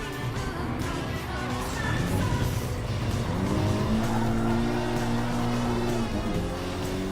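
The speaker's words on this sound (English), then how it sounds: "Civic Type R Castrol Livery is going to take it straight to first place." Honda Civic Type R race car in Castrol WTCC livery, front-wheel drive, in Gran Turismo Sport: a loud, steady engine drone shifting pitch under acceleration, with tires squealing and skidding throughout and no talk.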